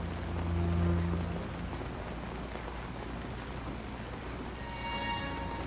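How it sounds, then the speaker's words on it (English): Rain pouring steadily in a scene of the series DARK, a dense even hiss of falling water close by, with a brief low hum near the start and no talk. "It's acid rain."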